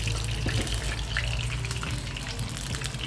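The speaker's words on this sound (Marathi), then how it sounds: "आता मी हे तूप असंच गरम पिठामध्ये घालत आहे" Hot ghee poured into wheat flour for jaggery kapanya gives a dense, crackling, bubbling sizzle with a low rumble beneath, steady and close for about three seconds, no voices.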